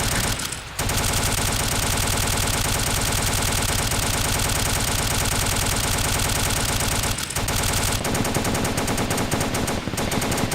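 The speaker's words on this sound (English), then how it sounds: "is marking the target with tracer rounds" A machine gun fires tracer rounds in long, dense, continuous bursts, loud and close, with a short pause near the start and brief gaps later, no talking.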